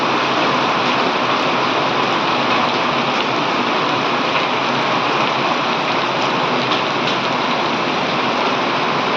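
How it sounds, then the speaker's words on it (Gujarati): Heavy rain pours steadily in a village during hot weather, a dense, loud, unbroken wash of drops drumming on surfaces for the whole stretch with no voices. "કેટલો બધો વરસાદ છે જોઈ લ્યો"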